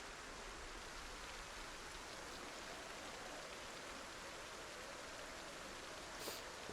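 Rain in a video game hisses as a steady, even wash of soft broadband noise, unbroken and fairly quiet throughout, with a brief faint tick near the end.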